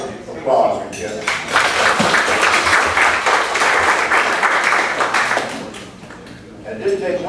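Meeting audience breaks into applause, a dense wash of many hands clapping for several seconds before tapering off, with faint voices around the edges.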